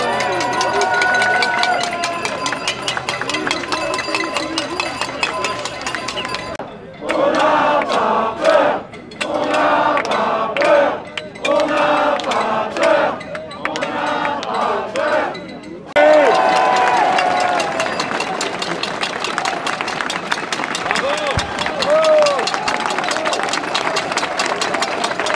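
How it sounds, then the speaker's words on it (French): Protest crowd in Paris in 2021 banging saucepans, a dense continuous metallic clatter and din with broken bursts early on, then sustained loud banging, mixed with crowd noise and voices. "Est-ce que les casseroles peuvent faire du bruit, s'il vous plaît?"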